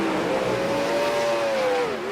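Super late model race car engines in a racing video game drone steadily, a rising and falling engine note sustained throughout with no talk.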